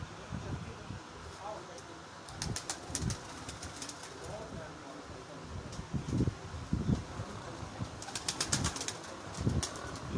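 A rooftop pigeon flies overhead: bursts of wing flapping and clapping around the middle and near the end, with soft coos and rustling over a quiet outdoor background.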